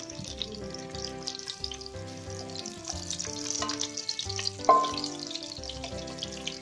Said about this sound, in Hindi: इसके अंदर हम प्याज डालेंगे और थोड़ा सा चमचा चलाएंगे